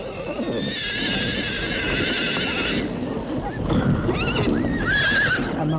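A Mongolian horse whinnies in several high, wavering neighs over a steady broad outdoor noise, with some clip-clop of hooves underneath.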